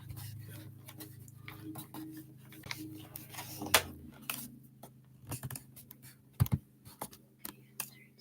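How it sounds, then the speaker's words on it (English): Tape pulled and pressed on to fix notes to a computer screen, giving quiet scattered crackles and clicks with a low hum underneath, close and faint with no talking. "I'm trying to tape my notes up to the screen"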